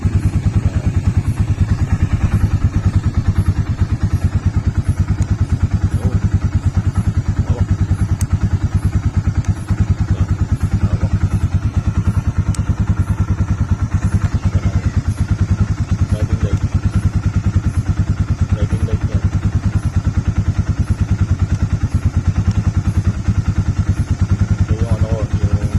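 A Rusi 250 motorcycle engine runs steadily with a fast, even pulsing throb and light mechanical clatter, close and constant throughout, with occasional voices faintly underneath.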